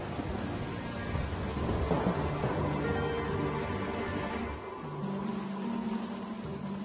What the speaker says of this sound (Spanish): El aguacero descarga 3 millones de litros de agua dentro del Coliseo, llenando el hipogeo hasta la mitad